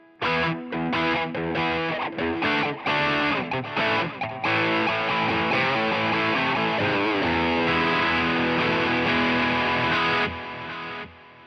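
A heavily effected electric guitar through a Fender Tone Master Pro with all pedals on plays loudly, thick with distortion and shimmering chorus, chords and runs ringing together before fading out at the end.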